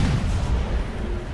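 Heavy tank cannon fire in War Thunder from a Type 74 tank, a sustained low rumbling boom filling the short moment with no pause.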